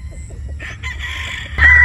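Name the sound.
gamecock rooster crowing, sweater and Boston bloodline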